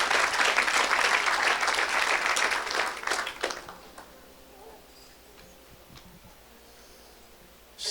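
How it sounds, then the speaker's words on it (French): Congregation at a Sunday church service breaks into loud applause and clapping for the first few seconds, then it tapers off to a quiet room with faint background noise. "Somebody clap for the Lord."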